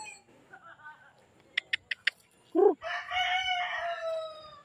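A Boston gamefowl rooster lets out one loud, close crow in the last two seconds. A few sharp clicks and faint background noise come before it.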